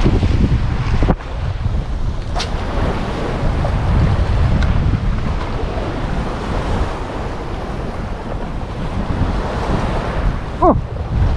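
Strong headwind batters the microphone while fishing from a boat on open water, a loud continuous roar and buffeting mixed with wave wash, a few sharp knocks and a short squeak near the end, no talk.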